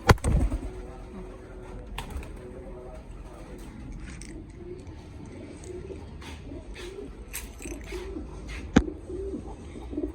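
Pigeons coo softly nearby in repeated low calls, with occasional sharp knocks and rustles, including a loud thump near the start and another near the end.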